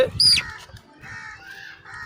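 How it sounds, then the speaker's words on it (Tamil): A small chicken chick gives a short, high-pitched peep up close, followed by softer handling noises and faint background hum. "இப்போ இது வந்து சின்ன கோழி குஞ்சு"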